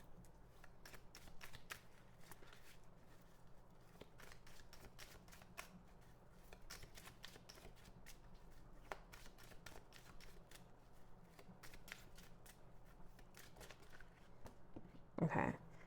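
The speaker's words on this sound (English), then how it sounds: "Okay, 2 cards flipped over." Tarot cards being shuffled by hand in a quiet room, a dense run of soft riffling snaps and slaps, with a louder knock or thump near the end.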